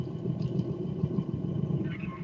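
A steampunk engine with bellows gives off a low, continuous rumbling chug. The churn is soft and mechanical, with faint wheezy puffs over it, and it runs steady with no voices.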